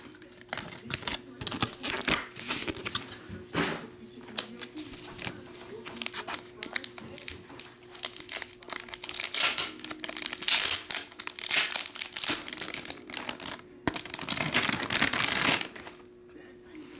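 Trading card pack wrappers crinkle and rip during a box break of 2022 Super Glow and NXT wrestling cards, a dense run of crackling foil and paper handling alongside a person talking over it.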